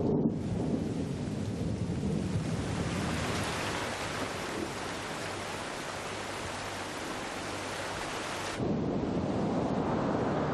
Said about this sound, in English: violent storms drench the forest